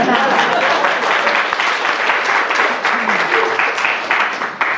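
An audience claps loudly and continuously for a dolphin, a dense roar of many hands sustained throughout, with some voices mixed into the crowd.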